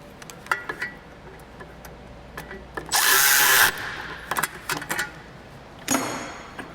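A power tool tightens a sensor bolt on a car, one close, loud burst of about a second, with another short burst after it, amid light clicks and handling noises.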